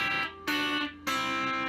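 Hybrid-picked blues guitar, a few ringing plucked notes on the top strings of an open C shape over a sustained bass string, sounding alone in short clear attacks.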